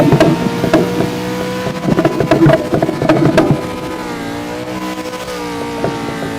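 V8 Supercar racing in PMR, with an engine revving and shifting and the tyres being worked hard through the last turns; a loud close engine drone with sharp rev spikes early, settling into a steady tone.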